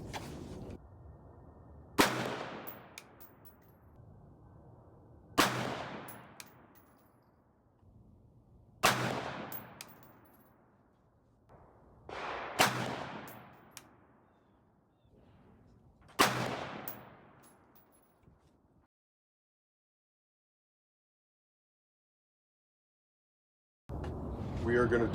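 About six sharp rifle shots fired at orange grid targets, each a loud, close crack with a short decaying echo, spaced a few seconds apart, followed by quiet.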